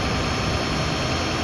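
A Ford crane truck raising its crane gives a loud, steady mechanical roar with a broad, hissing drone that stays even throughout, with no talking.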